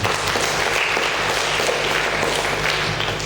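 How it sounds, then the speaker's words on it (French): An audience at a school excellence day ceremony in Sokone applauds the schools, a loud, close and sustained burst of clapping with a low hum underneath. "Je vous demande de les applaudir."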